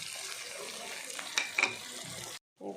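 Spice paste mixed with ground melon seed paste sizzles steadily in a hot pan, a loud, continuous hiss with a few sharp pops, cutting off abruptly near the end.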